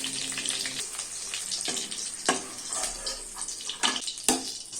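Capsicum lightly frying in oil for a fish do pyaza, giving a steady close hiss with a few sharper spatula scrapes and clicks breaking through.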